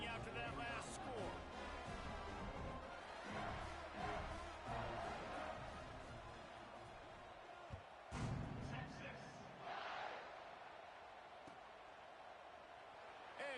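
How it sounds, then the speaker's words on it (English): Stadium crowd buzzing and murmuring in the college football video game NCAA 26 during a kickoff after a score, a steady broad roar with a few thumps, heard under continuous play-by-play commentary. "this crowd is buzzing after that last score"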